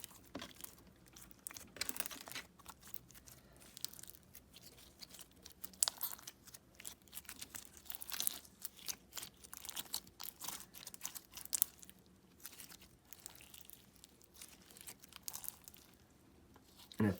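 Clicky, stretchy fishbowl slime studded with small fruit slices being squished and pressed by hand, giving a close, quiet run of crackly pops and squelchy crunches in irregular bursts with no talking.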